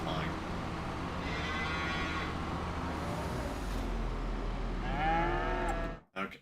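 Cows in the Farming Simulator video game moo in drawn-out calls, one early and another near the end, over a low steady hum, with a person talking quietly underneath.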